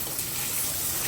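Steady broadband rush of water flowing during field irrigation in a rural Pakistani village, continuous and fairly close, with no pauses and no voices.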